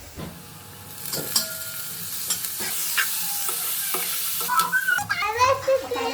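Dried prawns with chopped onion and green chillies fry and sizzle in hot oil for an Andhra-style drumstick curry, a steady close hiss broken by scraping stirs from a spoon against the pan.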